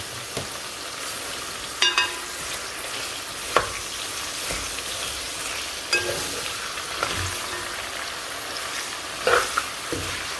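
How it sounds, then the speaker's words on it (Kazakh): Potatoes and pumpkin sizzle steadily as they fry in a pan, a constant crackling hiss broken by occasional sharper pops and stirring clicks, close and with no voices. "Мінекей картошка мен асқабақты осылай қызартып қуырып алдым."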